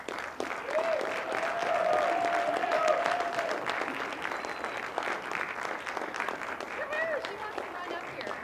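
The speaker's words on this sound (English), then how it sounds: "let's give you a round of applause" Graduation ceremony audience in an auditorium applauding family members, a dense sustained wash of clapping across the whole stretch, with a voice talking over it.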